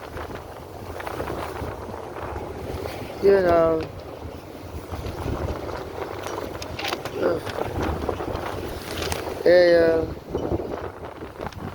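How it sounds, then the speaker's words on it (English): Wind buffets a microphone outdoors in rainy weather, a low rumbling roar that gusts up and down, while a person talks now and then. "Oh, it's windy."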